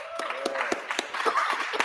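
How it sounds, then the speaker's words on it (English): Scattered hand clapping from a small crowd at a Philadelphia city bill signing for councilmembers, a brief burst of irregular claps at moderate distance. "give them a huge round of applause"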